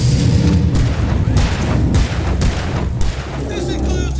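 Gunfire in Alan Wake Remastered video game: a rapid series of loud, punchy shots and booms, several sharp bursts spaced about half a second apart over a dense background.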